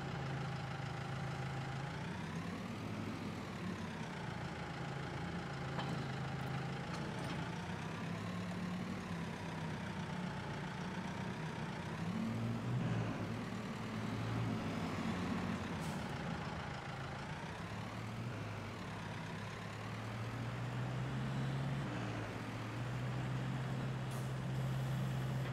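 Tractor engine in Farming Simulator 22, a steady low diesel drone with gentle pitch swells as it revs and settles, continuous and moderately close throughout with no talking.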